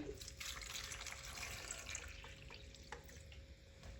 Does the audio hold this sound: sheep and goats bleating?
no